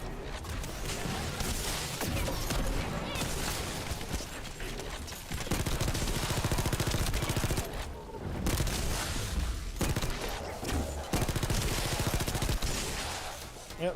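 Hand cannon gunfire and other weapon blasts from the sci-fi shooter The First Descendant form a dense, loud, continuous barrage of rapid bangs and booms, with only short gaps between bursts.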